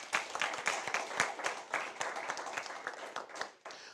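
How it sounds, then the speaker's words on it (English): Audience applause at a school debate semi-final, a steady patter of many hands clapping in a hall for about four seconds, moderately loud and fading out at the end. "So a round of applause once again for that."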